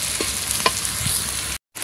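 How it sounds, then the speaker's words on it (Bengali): Spices sizzling in hot oil for a dal tempering, with steady close frying hiss and a few scraping stirs, cutting out briefly near the end. "বাগারটা হচ্ছে আমি ভাজা দিয়ে উঠায় রাখবো"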